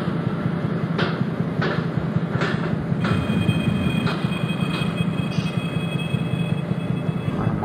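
Train simulator game run of an Indian express passenger train braking toward a station, a steady rumbling rail drone with several brief hissing brake bursts and a faint high whine, no talking.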